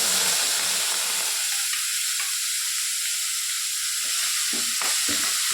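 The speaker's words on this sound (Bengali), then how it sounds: "এই মাছটা আমরা ভাজাই খাবো তার জন্য ভালো করে কড়া করে ভেজে নিলাম" Small fish fry in hot refined oil, a loud continuous sizzle and hiss with occasional brief spatters and stirring, no talking.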